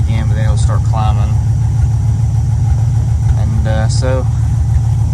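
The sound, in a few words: 1974 Dodge Challenger engine running on straight pipes with exhaust leak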